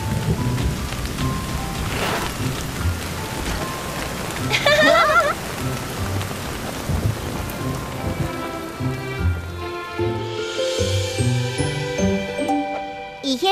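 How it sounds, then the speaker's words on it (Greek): Short rain shower in a Super Wings cartoon, steady rain pattering on surfaces with a rumble of thunder, under music and some voices. "Ω, μια σύντομη μπόρα είναι. Ξεσπάνε συνέχεια μπόρες."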